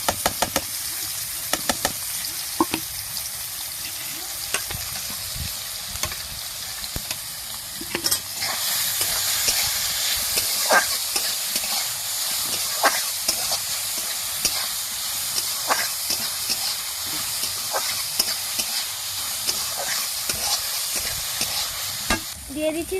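Chopped spices fry in hot oil in a wok while making a restaurant-style egg chop. A steady sizzle and hiss is broken by frequent knocks and scrapes of stirring, close up and with no talk.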